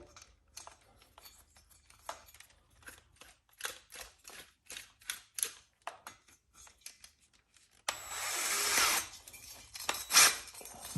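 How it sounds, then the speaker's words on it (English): A series of short clicks and ratchets, then a power drill chucked to a valve stem of a Kawasaki FR730V engine whirs loudly for a few seconds near the end. "you've got your drill hooked up to your valve stem"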